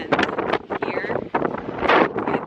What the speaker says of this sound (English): it's windy and cold, but it's still really pretty